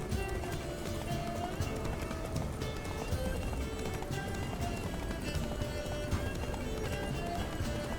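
Horse hooves pound in a steady galloping rhythm as Roach runs in The Witcher 3: Blood and Wine, a continuous mid-loud clatter over a dense game soundtrack, with no one speaking over it.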